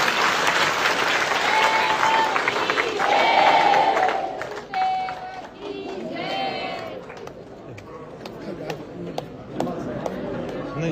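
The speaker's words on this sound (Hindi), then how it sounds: "एक बार जोरदार तालियां" A crowd at a religious gathering with Swaminarayan saints on stage gives hearty applause that swells and then tapers off, with murmured chatter underneath.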